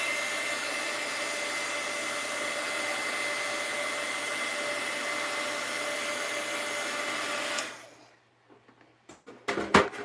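A heat gun blows steadily and loudly with a constant whir for about seven and a half seconds while wax thread is made for bookbinding, then cuts off, leaving a few faint clicks and knocks.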